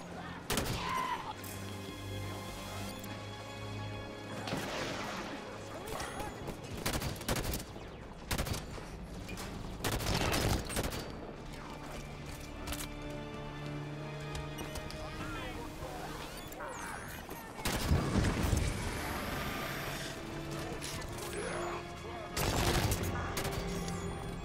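Sniper and other weapon fire in Halo 5: Guardians bursts out in heavy, repeated volleys across a long stretch of battle, loud shots scattered between quieter gaps, with a player talking over parts of it.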